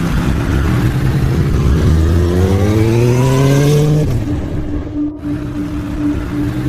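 A motorbike engine revs up and climbs in pitch as it pulls away on a late-night ride home, then fades into the distance, leaving a quieter hum behind.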